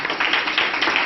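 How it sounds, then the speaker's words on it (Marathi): Students at a girls' hostel New Year program applaud together, a dense, steady wash of many hands clapping at close range that fills the whole moment without a break. "सर्व विद्यार्थ्यांनी एकदा जोरदार टाळ्या स्वतःला"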